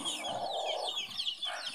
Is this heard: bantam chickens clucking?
yes